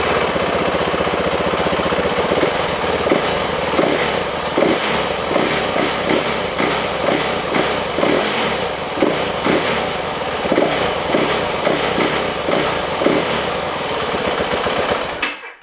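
A Yamaha WR450F dirt bike engine idles and is blipped while running lean and choked, a loud, steady, rough thumping drone with a rhythmic pulsing, close by with no talk, cutting off at the end.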